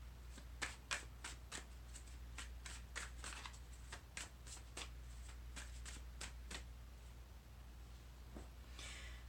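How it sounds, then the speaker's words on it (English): Tarot cards are shuffled in quick riffling bursts of crisp snapping flicks, close and quiet over a low steady hum, pausing briefly between rounds. "that's too many cards. I'm gonna keep shuffling"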